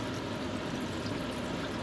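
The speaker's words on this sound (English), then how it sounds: "That's when you add water, enough to cover it" Water pours steadily into a pot of browned rabbit meat for stew, a continuous low splashing rush that holds even and close for about two seconds with no voices.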